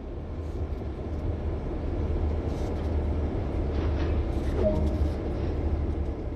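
A freight train with loaded hopper cars in a train video game rumbles steadily and continuously, a dense low mechanical drone with faint clanks over it.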